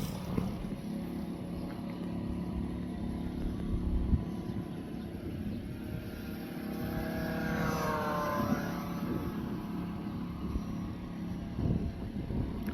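An FMS 800mm P-51D RC model airplane flies overhead with a steady propeller and electric motor drone. The pitch sweeps up and back down as it passes at middle distance, with no talking.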